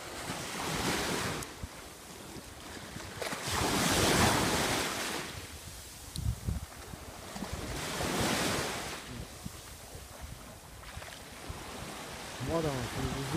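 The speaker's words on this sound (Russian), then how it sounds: "Вот оно, Средиземное море." Mediterranean Sea waves wash onto a quiet Limassol beach, with broad, rolling surges of surf rising and falling several times, mixed with wind buffeting the microphone and a faint voice near the end.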